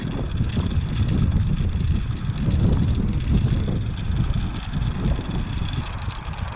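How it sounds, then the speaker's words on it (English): Steady, loud wind roaring and buffeting a microphone outdoors in a flower garden, a continuous low rumble with gusty swells and no voices. "It is very windy out here today."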